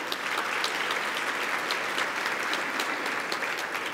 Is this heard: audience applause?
yes